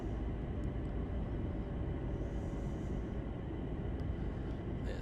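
Whirring, rising hum of train brakes in Train Sim World, heard over a steady, loud rolling rumble that runs unbroken through the moment.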